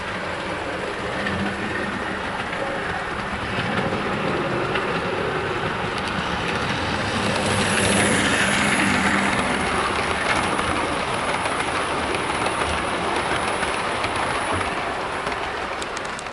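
A Hornby LSWR T9 model locomotive runs steadily on its track while hauling a full rake of coaches, giving a continuous close rolling rumble with faint clicking from the wheels and no pauses.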